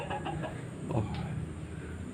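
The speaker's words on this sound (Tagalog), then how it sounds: "Ayan yung manok ko." A fat black chicken clucks in short, quiet bursts nearby, heard alone against a low background hum.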